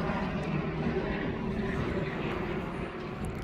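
A helicopter's steady engine drone hums continuously, passing unseen at a distance over the Isle of Man coast, with a broad rumbling wash and no distinct beats.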